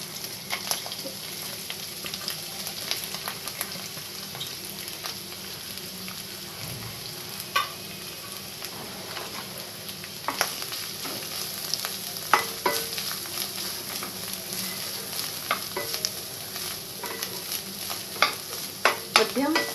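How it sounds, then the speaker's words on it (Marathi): Bitter gourd frying in a little hot oil over medium heat for a green chilli vegetable dish, a continuous close sizzle broken by repeated scrapes and clacks of a spatula stirring the pan, with no talking. "तेल गरम झाल्यानंतर आपण कारली भाजून घेणार आहोत।"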